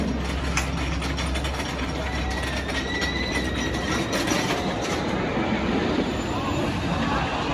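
Blue Streak, a classic wooden roller coaster at Cedar Point amusement park, heard on board as a loud steady rumble and clattering roar of the train on the track, with a rhythmic mechanical ratcheting throughout.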